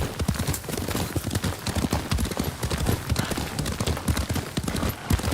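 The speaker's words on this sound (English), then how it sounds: "Lord Sakai taught me to ride a horse" Horse hooves clip-clop steadily at a brisk riding pace in the Ghost of Tsushima video game, loud and continuous with dense rhythmic beats and no talk over them.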